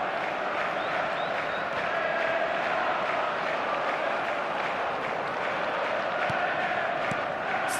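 Football stadium crowd at a Chelsea versus Liverpool match applauding a forward tracking back; a broad, steady roar of many voices and clapping holds at an even level throughout, distant and unbroken.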